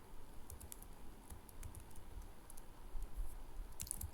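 Code is typed on a computer keyboard in quick, uneven bursts of light key clicks, close but quiet, with no voice over them.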